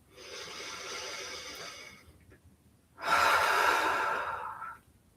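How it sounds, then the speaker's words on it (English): Two long, deep breaths, a slow inhale and then a fuller exhale, close and calm with a short quiet gap between them, during a guided relaxation exercise. "Take a deep breath there."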